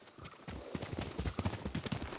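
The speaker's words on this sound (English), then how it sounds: "Horse!" Hooves pound in a quick galloping rhythm, close and fairly loud, a horse running steadily in Ghost of Tsushima with no voices over it.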